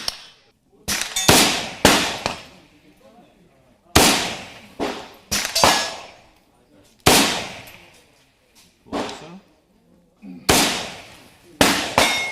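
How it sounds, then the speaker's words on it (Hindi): AK-203 assault rifle fired in single-shot mode, several loud, sharp reports spaced a second or two apart, each with a ringing decay, some in quick pairs, outdoors. "अभी मैंने सिंगल शॉट में फायर किया है। इसको सिंगल शॉट में हमने 2 बार फायर किया।"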